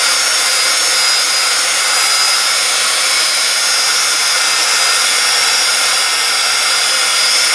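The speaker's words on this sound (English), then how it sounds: "embossing heat tool" A loud Paper Studios embossing heat tool blows hot air in a steady, unbroken roar up close, with no talking.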